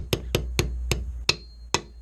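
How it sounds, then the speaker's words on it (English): A small punching hammer taps a part into a Browning Auto 5 shotgun: six sharp metallic taps at an uneven, steady pace, close and crisp, with no talk. "take our little punching hammer and just kind of tap her in there"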